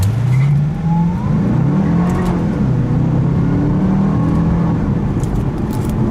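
A 2009 Cadillac CTS-V with automatic transmission accelerating hard at full throttle, a loud, close engine roar with rising and shifting tones that climb steadily without any voices.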